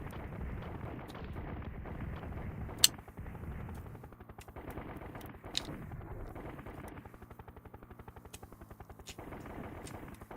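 Gunfire from the SNES helicopter combat game Urban Strike, sounding as a steady mechanical rattle of rapid shots with a couple of sharp louder cracks, under a continuous engine-like drone and no talk.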